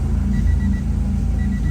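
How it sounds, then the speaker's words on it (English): Close and steady, a 1990-93 Acura Integra idles with a Toda header and custom exhaust, giving a deep, even low rumble with no revving. "Temperature been like that for about an hour and a half now with the car idling."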